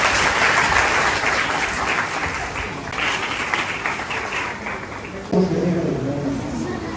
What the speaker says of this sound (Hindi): जितना भी टीचर्स कैटेगरी आवा के छो एनी बड़ी लगे जोर से ताली बजनी चाहिए